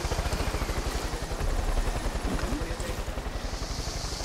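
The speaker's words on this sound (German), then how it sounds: "Da kommt noch ein Heli." Helicopter approaches in the video game Far Cry 5, a loud, rapid, evenly pulsing rotor thump with engine whine, continuous throughout and close to the listener.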